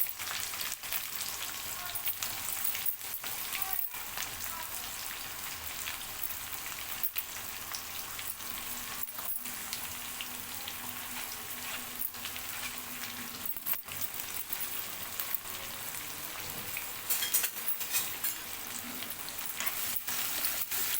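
Chopped onions sizzle and fry steadily in a pan with crushed garlic and chilli for a Telugu moong dal fenugreek curry, a continuous close crackling hiss with small pops throughout and no talking.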